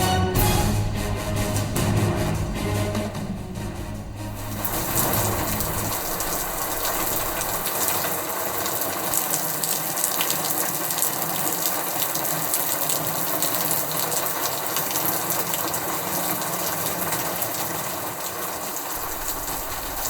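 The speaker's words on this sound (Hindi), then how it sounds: "करीब 4 घंटा ले यहाँ सल्लग बारिश हुआ थे" Heavy, steady rain in Ambikapur, Surguja, a dense continuous rushing hiss with a louder, fuller stretch at the start before settling into an even downpour.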